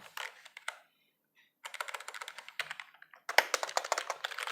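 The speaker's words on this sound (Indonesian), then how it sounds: "Ya, begitulah bunyi membran." Typing on a Sades Bladewolf membrane keyboard: bursts of dense, soft keystrokes in three runs separated by brief pauses, close and alone without talk.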